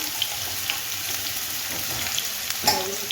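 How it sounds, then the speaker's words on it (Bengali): Potatoes fry in a pan with a soft, steady sizzle while a utensil stirs them, giving a few light taps and clinks against the metal; quiet and close, with no speech. "তারপরে আলুটা একটু নেড়ে নেড়ে সুন্দরভাবে তারপর লাগিয়ে দিচ্ছি।"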